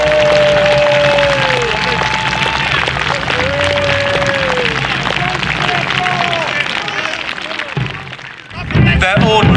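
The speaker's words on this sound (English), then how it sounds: "how you get them up is give them a round of applause" Outdoor crowd applauding Sealed Knot English Civil War re-enactors at Ashby, a steady loud wash of clapping and cheering with voices mixed in, continuing throughout and surging again near the end.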